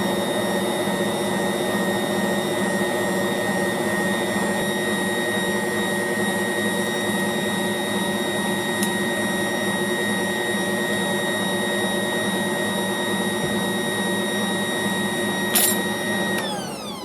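Stand mixer running a paddle through Christmas cookie dough, a steady loud motor drone with a constant tonal whine throughout and a brief scraping clatter near the end.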